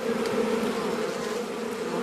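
Bees buzzing around a hive make a steady, even drone that holds at a low, constant level without pause.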